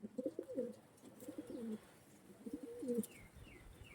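Pigeons of the Kaldama generation coo in soft, rounded bursts, three distinct phrases spread across the moment, with faint chirps and light background noise between them.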